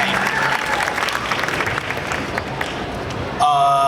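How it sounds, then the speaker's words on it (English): A convention audience at a Demon Slayer Q&A panel during a comic con breaks into dense, sustained applause that fills the room at steady volume, rising slightly louder near the end. "So round of applause."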